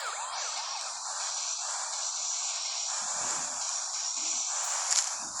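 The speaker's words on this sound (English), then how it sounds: "It makes the police car noise." A police car siren wails steadily and continuously at a fairly close range. The high-pitched tone holds throughout with no one talking over it.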